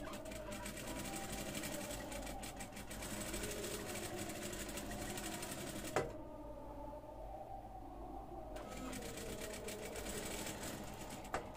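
An industrial sewing machine runs steadily as it stitches fabric for a blouse neckline with a fine, narrow stitch, whirring loudly and continuously apart from a short pause near the middle; no one talks.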